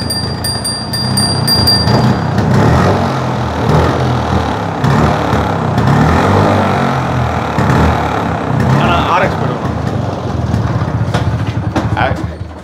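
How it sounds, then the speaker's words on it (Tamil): A vintage scooter's bell rings clearly for about two seconds at the start, over a steady engine rumble. Voices chatter nearby throughout. "அப்புறம் பெல்லு."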